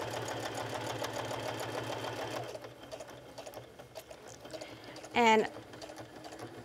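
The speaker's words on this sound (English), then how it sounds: "So you want to sew all around all four edges." A sewing machine fitted with a heavy-duty needle stitches around the edges of a card wallet, a steady rhythmic whir for a few seconds that stops midway, followed by quieter handling and a brief voice.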